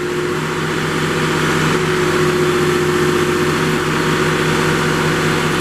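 The Kohler engine of a Princeton PB55.3 truck-mounted piggyback forklift runs with a loud, steady, close mechanical drone that holds throughout.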